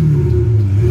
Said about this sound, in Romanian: la Ferrari vreau 5 scurte, ca asta e foarte pops and bams